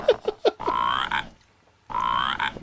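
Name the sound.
frog croaking outside near the air conditioner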